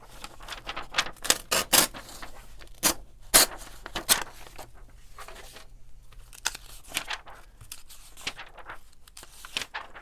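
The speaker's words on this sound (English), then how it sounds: "I'm going to cut this one out too." Scissors snip and paper rustles and crinkles while an image is cut out for a glue book, with bursts of crisp cutting and handling sounds spread unevenly through the clip.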